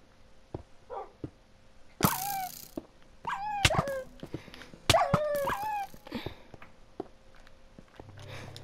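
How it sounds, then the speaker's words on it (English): A dog in Minecraft whimpers and yelps, a series of high, sliding whines in short bursts separated by quiet gaps and a few sharp clicks. "Why are you trying to shoot a dog?"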